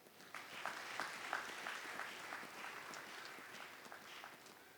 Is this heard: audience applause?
yes